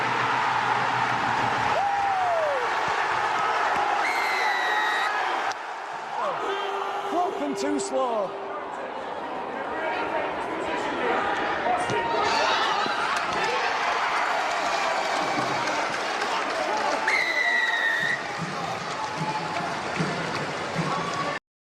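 A real crowd at a rugby league match roaring and cheering in a dense, continuous wash, with whistles piercing through now and then and a commentator's voice briefly audible over the din.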